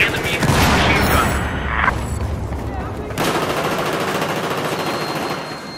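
Gunfire in the video game Battlefield 4, including machine gun fire, is loud and dense, a sustained barrage with booming bursts, and a voice talks over it.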